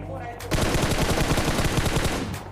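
Rapid automatic gunfire in PUBG on the Erangel map, a loud, close burst of evenly spaced shots that runs for about two seconds after a brief lull, with no talk over it.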